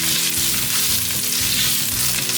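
Vegan shiitake mushroom stems hit a hot pan with minced ginger and fry with a loud, dense sizzle, with rhythmic scraping and stirring pulses repeating close up throughout.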